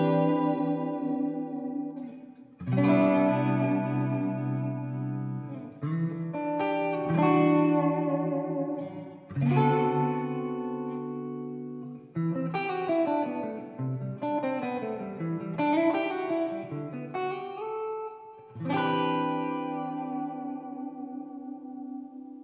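Clean Cort G290 FAT electric guitar plays alone, strummed chords and picked notes ringing out with short pauses between phrases, bright and moderately loud.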